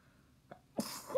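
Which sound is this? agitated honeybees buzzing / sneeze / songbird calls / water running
sneeze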